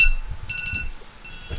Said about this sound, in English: And with that buzzer, we'll wrap it up.